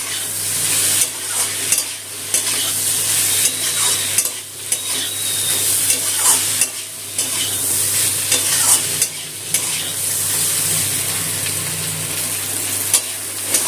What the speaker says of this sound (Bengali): গুঁড়ো মশলাটা একটু কষিয়ে নেবো আলু বেগুনের সাথে